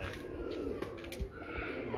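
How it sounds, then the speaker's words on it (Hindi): Lakha pigeons on a rooftop in Kasur give soft, low cooing over a dull murmuring background, the calls faint and intermittent across a brief stretch. "जनाब सैफुल्ला खान साहब के ये अपने सलजूक ब्लड लाइन में से लाखे कबूतर हैं"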